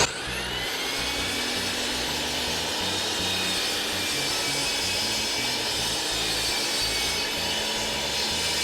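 A power saw cuts a wooden board for a plant stand, a loud continuous whining buzz of the blade through the wood held steady for several seconds, close up with no talking.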